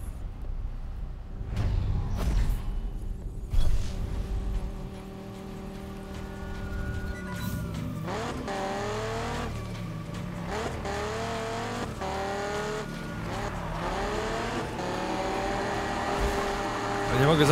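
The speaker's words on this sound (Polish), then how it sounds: "Jak ten Viper lepiej idzie bokiem niż main auto." A Dodge Viper drifts sideways in Need for Speed 2015, its engine droning with rising revs and tire squeal through the slide, while someone talks over it.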